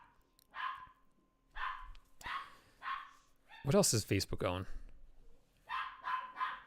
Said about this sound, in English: I don't know if you guys can hear my dogs barking.